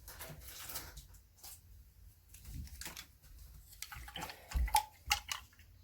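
Soft sloshing and dripping as a paintbrush is rinsed in a container of paint-mixing water, with quiet gaps between a few close, light splashes and taps against the cup.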